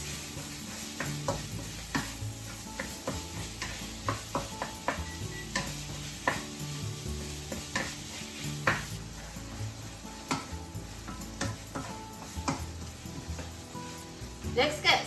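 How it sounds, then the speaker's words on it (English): Pork sizzles steadily as it is stir-fried in a hot pan while a utensil scrapes and clacks against it in irregular strokes, close and continuous. "And keep frying until the pork is cooked."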